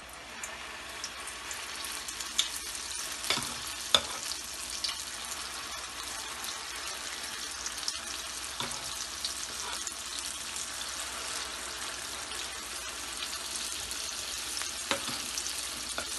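Spoonfuls of lentil batter for dahi bara frying in hot oil, a dense, continuous crackling sizzle with scattered sharp pops and occasional utensil clicks, close and steady throughout.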